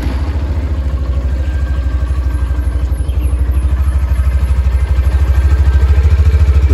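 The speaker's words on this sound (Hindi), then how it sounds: "आइए इसका एग्जॉस्ट ऑन करके देख लेते हैं एग्जॉस्ट इनका कैसा साउंड करता है।" A 2021 Hero Xtreme 160R motorcycle's exhaust running at idle, a loud, close, steady rhythmic chugging that grows slightly stronger over time.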